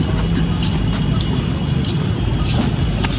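A new car on the move gives a continuous, loud low rumble of road and engine noise with a few faint clicks and knocks, steady throughout and close by, with no talk.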